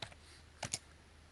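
Typing a command on a computer keyboard in Kali Linux: a few quiet key clicks, one at the start and then two close together near the end, with no voices.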